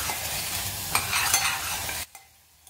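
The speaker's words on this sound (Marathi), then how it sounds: "हा मसाला छान तेल सुटेपर्यंत परतून घ्यायचा आहे" Masala being stirred and fried in hot oil for Kolhapuri mutton tambda rassa, a steady loud sizzle with scraping stirs that stops abruptly near the end, leaving near silence.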